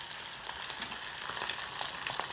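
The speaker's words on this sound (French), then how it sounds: "Dans une casserole, on met de l'huile et on plonge le poisson salé." Salt cod frying in a pan of hot oil, a fairly quiet, continuous sizzle with small crackling pops scattered throughout.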